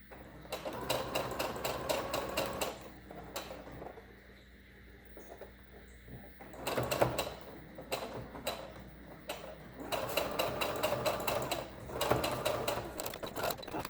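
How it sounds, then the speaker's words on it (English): Close by, a sewing machine stitches pleats into a cloth mask, humming in rapid ticking runs. A quieter pause falls midway before it starts stitching again, and no one talks. "You can make another one in the middle and continue sewing."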